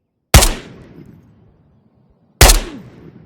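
A suppressed AK Alpha rifle firing in the video game Ghost of Tabor: two separate, loud, close shots, each a sharp crack followed by a short decaying tail, with about two seconds of silence between them.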